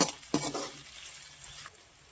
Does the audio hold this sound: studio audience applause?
no